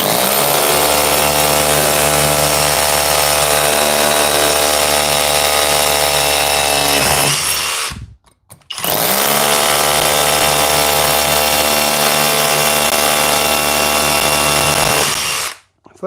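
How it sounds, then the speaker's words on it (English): Flex SDS rotary hammer drilling horizontally, two long loud continuous runs of steady whining hammering separated by a short pause, each ending with the motor winding down. "Flex SDS works pretty good."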